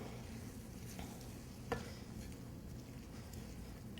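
A spoon stirs corn succotash with hot sauce in a pot, making a soft, faint simmering patter with light scraping and one brief clink against the pot.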